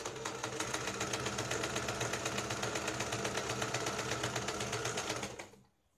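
An electric sewing machine stitches a blouse lining in one continuous rapid run, its close rhythmic needle chatter lasting about five seconds before stopping abruptly.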